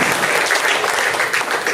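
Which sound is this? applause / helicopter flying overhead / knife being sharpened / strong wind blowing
applause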